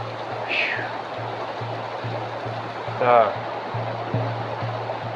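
Rushing river rapids pour steadily and fairly close, a continuous broadband roar of churning water with a low hum running underneath and a couple of brief faint chirps over the top.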